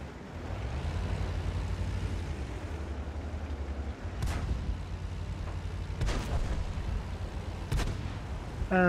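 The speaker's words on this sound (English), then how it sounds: "Artillery takes another shot, not aimed at me, but at the French heavy." Artillery fire in a tank video game with an M4A2E4 tank: several sharp distant shots sound over a steady low engine rumble, spaced a second or two apart.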